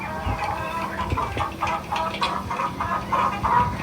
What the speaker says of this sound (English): Look at the chickens. They even have singing chickens here.